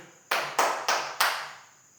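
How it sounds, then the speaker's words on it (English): A few separate hand claps in a classroom after a group presentation, four sharp slaps spaced about a third of a second apart, fairly close and alone with no talking. "Let's give a prize of applause for Group 2."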